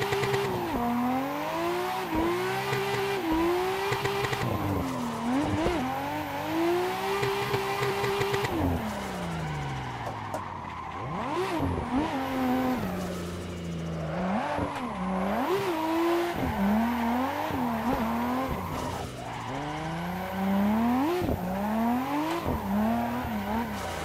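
A Nissan Skyline drifts in the Assetto Corsa racing game, its engine revving up and down in long wavering sweeps with repeated tire squeal as the car slides side to side, loud and continuous throughout.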